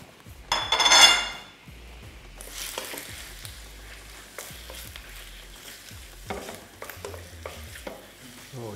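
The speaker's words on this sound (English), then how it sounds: "We are now ready to put the squids in the sauté" Squid tipped into a sauté of tomato sauce for an Italian dish, a loud burst of sizzling as it hits the pan, then quieter bubbling with clinks and scrapes of a utensil stirring against the pot.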